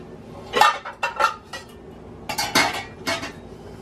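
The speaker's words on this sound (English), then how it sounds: "We're going to get out some of our kitchen tools here." Kitchen tools and pans for making sugar-free coconut cardamom ice cream are handled, with several close metallic clinks and clatters of utensils against cookware coming in short bursts separated by brief pauses.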